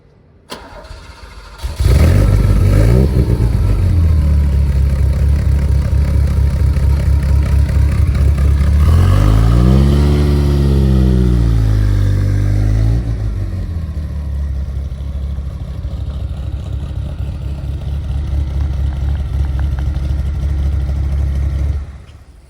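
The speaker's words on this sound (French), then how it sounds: "Il l'a juste avancé, mais du coup on a eu le start-up du V8" An Aston Martin V8 cranks and fires with a loud burst, settles into a deep, rumbling idle, then revs and rumbles as the car moves off, heard up close at a seaside car-spotting meet.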